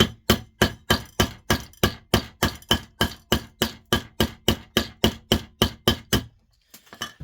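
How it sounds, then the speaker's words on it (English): A hammer chips ceramic off a heater element resting on granite, striking in a fast, even run of about twenty sharp, loud knocks before stopping with a couple of faint taps. "I like how I'm chipping onto granite"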